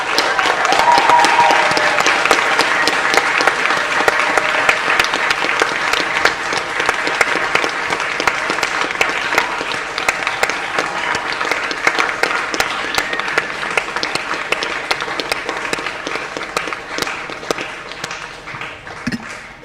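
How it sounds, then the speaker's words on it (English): A large crowd applauds steadily and loudly, with dense clapping holding at an even level throughout before easing slightly toward the end. "let's just a round of applause for this celebration."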